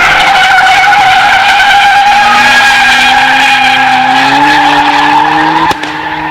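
An RB-engined Japanese car drifts on street tires, its tires letting out a loud, sustained squeal over the strained engine note, pitch climbing steadily before a sharp break near the end.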